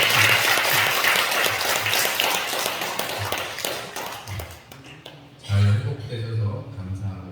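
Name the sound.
church congregation applauding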